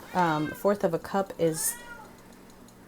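A pet cat meows a few times in a home kitchen, mixed in with a person talking nearby while food is measured.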